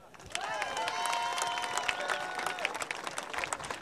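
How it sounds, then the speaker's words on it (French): An audience applauds the boat Babouche at a boat event, a steady wash of clapping with some cheering alongside bright tonal sounds. "je vous demande de l'applaudir très fort"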